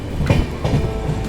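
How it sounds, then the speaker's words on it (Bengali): Kanchankanya Express rolling into Alubari Road junction in the morning, its wheels beating a close, rhythmic clickety-clack over rail joints with a continuous rumble of the carriages. "আমাদের ট্রেন এখন ঢুকলো আলোবাড়ি রোড জংশনে"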